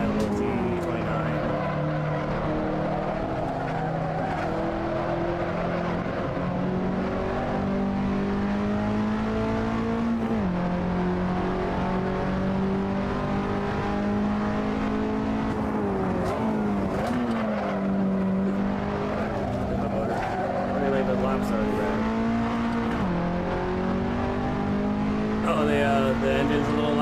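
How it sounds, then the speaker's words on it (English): Race car engine in a sim racing game, loud and continuous with rising and falling harmonic pitch as gears shift and the car accelerates, a faint voice murmuring underneath. "The engine's a little loud."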